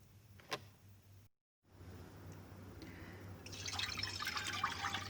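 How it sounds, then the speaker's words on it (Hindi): Two cups of fresh milk and a cup of sugar poured into a pan for homemade condensed milk: soft liquid trickling and faint drips, dropping out briefly before a steadier, hissy pour swells toward the end. "दूध डाल दिया, चीनी डाल दी।"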